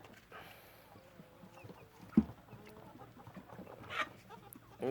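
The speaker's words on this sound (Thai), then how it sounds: "นี่ก็เป็นไก่ 7 8เดือนประมาณนี้ครับ" Saigon chickens about seven to eight months old give scattered, fairly faint clucks and calls on a farm, with a couple of sharper, louder calls against a quiet background.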